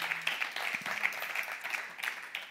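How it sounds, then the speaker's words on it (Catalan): An audience at a live stage show claps for a lucky volunteer, a brief, moderately quiet patter of applause that thins out toward the end. "Un aplaudiment per l'afortunat"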